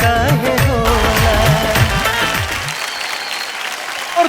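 A large crowd claps and cheers for two Bhojpuri superstars on stage at an entertainment show. The loud, dense applause rolls over fading music and then thins out toward the end.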